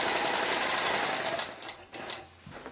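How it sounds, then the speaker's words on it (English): A sewing machine runs loud and steady while free-motion quilting feathers and arcs, then slows into shorter uneven bursts toward the end. "Now I'm going to go back into my center on the top, stitching right along the previous line with my arc."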